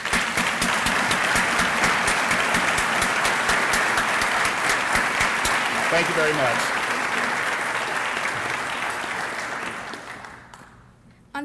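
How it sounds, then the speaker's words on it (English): Audience applause at a Junior Achievement breakfast event, sustained clapping from a large crowd that fades out near the end, with a voice briefly speaking over it. "I think we should give her a big round of applause"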